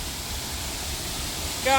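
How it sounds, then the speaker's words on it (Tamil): A waterfall at Salango Temple Park in Malaysia pours as a steady, broad rushing roar close to the listener, with a brief voice cutting in right at the end. "அருவியா பாரு மலேசியா அருவி"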